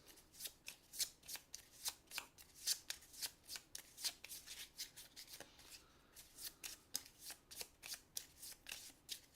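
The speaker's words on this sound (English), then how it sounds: "We're going to shuffle these. So we got the monsters out. Shuffle these up." Deck of cards from the Lords of Ragnarok board game being shuffled by hand, a rapid series of crisp riffling and flicking bursts repeating close up, quiet and continuous without speech.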